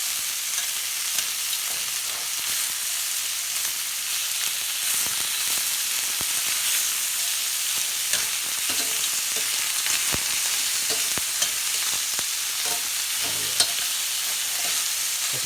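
Lobster pieces fry in a pan with a spicy honey garlic glaze, giving a steady, close hiss of sizzling that runs throughout with faint scattered pops and no voices.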